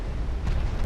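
A heavy naval gun salvo booms in Ultimate Admiral: Dreadnoughts, a deep, sustained low rumble with a slight swell partway through, loud and close.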